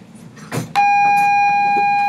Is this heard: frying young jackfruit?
no